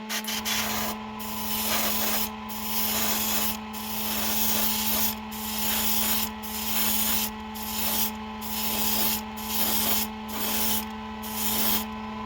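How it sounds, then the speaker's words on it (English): Compressor-driven airbrush spraying Gaahleri Kaleido acrylic paint, a steady hiss with a constant motor hum underneath, broken by short regular dips as the spray starts and stops. "Switch on the compressor, and we are good to go."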